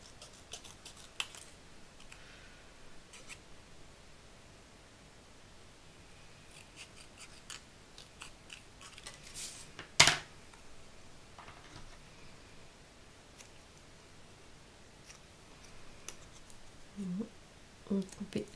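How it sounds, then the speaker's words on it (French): Scissors snip through a square of paper for a handmade fairy-themed card, a soft, quiet crisp cut with a sharper snip partway through, close and faint against low room noise. "je vais couper un genre de carré"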